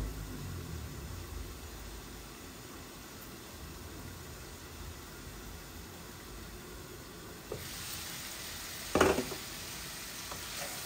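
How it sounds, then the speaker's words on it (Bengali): Food fries slowly in a pan over a low gas flame, a soft steady sizzle throughout, nearby and quiet, with a brief louder clatter near the end. "এগুলো আস্তে আস্তে ভাজা ভাজা হোক।"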